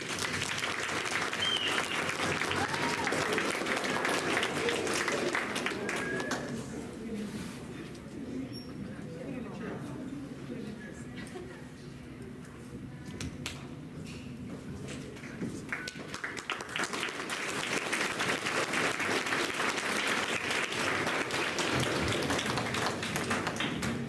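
Audience applause at a mentoring community awards ceremony, loud sustained clapping that eases into a softer stretch midway, then swells again to full strength until the end.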